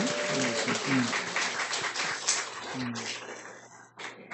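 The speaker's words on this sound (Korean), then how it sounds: "감사하며 격려하며 박수." A church congregation at an evening worship service claps for a missionary, a dense burst of applause with voices mixed in that thins out toward the end.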